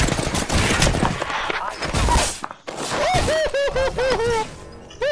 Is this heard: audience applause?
no